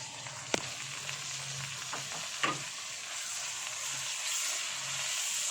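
Turmeric, chili, salt, tomatoes and green chilies fry in a pan for kadhi pakora, a soft steady sizzle with a few sharp clinks of a utensil early on and no talking.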